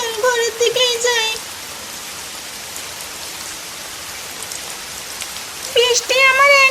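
Steady rain falls throughout, a dense even hiss of drops on surfaces with no breaks, while a voice talks over it at the start and again near the end.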